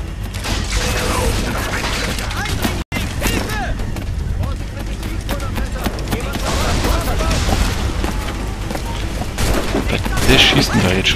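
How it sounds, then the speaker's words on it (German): Dense, crackling volleys of gunfire in the video game Assassin's Creed: Black Flag, continuous and loud, layered with booming game effects and mechanical clatter while voices speak throughout. "Wer schießt denn da jetzt schon wieder?"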